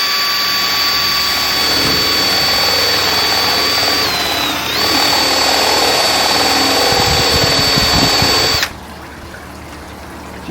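A power drill whines steadily at close range for about eight seconds while countersinking a screw hole in a pergola bracket, its pitch dipping briefly under load before it stops abruptly.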